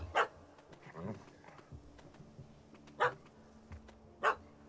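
A dog barks three times at spaced intervals in The Witcher 3, the barks sharp and moderately near over low game ambience and faint background voices.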